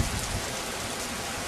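Heavy rain pours outdoors in Latvia, a dense, loud, continuous hiss of drops hitting surfaces with no break and no voices.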